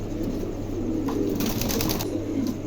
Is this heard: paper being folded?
no